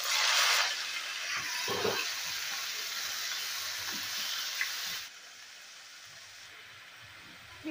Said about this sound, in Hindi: अब हम मैरिनेट किया हुआ चिकन इसमें ऐड कर देंगे और इसको फ्राई करेंगे